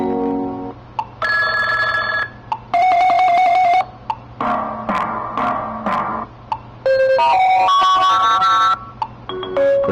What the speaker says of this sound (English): so you can hear your own different tone there